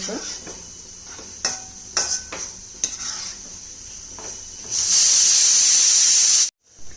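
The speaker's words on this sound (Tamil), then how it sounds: "ஆஃப் பண்ண அடுப்பில் தான் நம்ம கிண்டிகிட்டு இருக்கோம்." Scraping and stirring of a mango, ginger and gooseberry spice mixture in a pan on a switched-off stove, with a steady background hiss, a few sharp clinks of a spoon, then a louder burst of hissing near the end.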